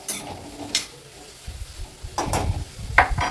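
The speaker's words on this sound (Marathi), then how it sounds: "त्याच्यानंतर डायरेक्ट वांगी घालायची. छान मिक्स करून घ्यायचं." Brinjal stirred into a hot pan with curry leaves, giving a soft, steady sizzle with a few louder scraping stirs toward the end.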